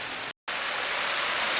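Heavy rain pours down in a steady, dense hiss of drops striking surfaces, broken by a brief cut to silence before the downpour resumes and swells slightly.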